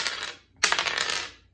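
Small dice clatter in two quick bursts, a brief hard rattle and then a longer scattering tumble that dies away, close and alone with no voices.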